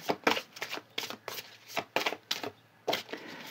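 Tarot cards being shuffled by hand, a quick run of soft papery riffles and flicks in uneven bursts, close and quiet, with no talking.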